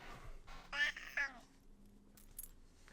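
A cat meows twice in quick succession, close and fairly clear, with quieter background sound around it.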